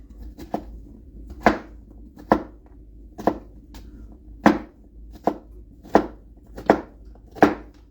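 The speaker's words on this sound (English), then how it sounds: "we're just trying to chop and keep everything on the cutting board" Knife chopping a pound of small Persian cucumbers on a cutting board, about a dozen crisp, close, loud strikes at a steady, slightly uneven rhythm with no talk.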